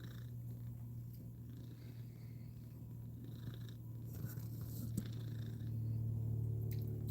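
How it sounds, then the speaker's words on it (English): A cat purrs steadily up close, a continuous low rumbling vibration with soft rhythmic rises as it breathes in and out. "Yeah, cat's definitely purring."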